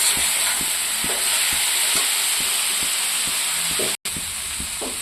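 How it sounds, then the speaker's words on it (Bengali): Onions and squash fry in a pan with a cumin and turmeric paste, giving a loud, continuous sizzling hiss punctuated by regular spatula scrapes and taps against the pan. "জিরার সাথে একটু ভাজা করব।"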